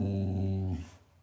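A dog's low, rumbling grumble with a strong harmonic buzz, close by, lasting under a second before trailing off into quiet.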